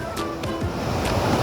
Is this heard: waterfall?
yes